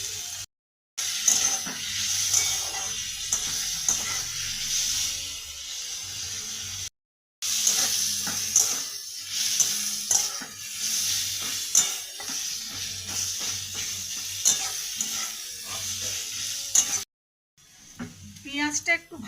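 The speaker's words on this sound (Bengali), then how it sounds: "পেঁয়াজের মধ্যে আমি অল্প নুন দিয়ে দেবো যাতে পেঁয়াজটা তাড়াতাড়ি ভাজা হয়ে যায়।" Sliced onions with a pinch of salt sizzle and crackle in a pan, with scraping stirring strokes throughout, broken by a few brief silent gaps.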